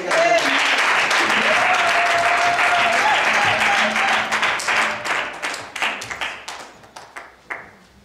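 Congregation in a church service applauding loudly for pastor Célestin, dense sustained clapping that thins into scattered claps and fades out over the last few seconds, with a voice briefly over the start.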